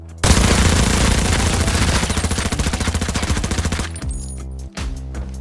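Rapid bursts of automatic rifle fire from a T7 rifle in the video game Arena Breakout, loud and close, hammering steadily for several seconds before giving way to a few sharper echoing shots.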